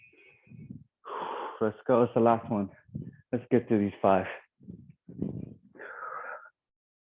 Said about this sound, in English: So you can hear my breath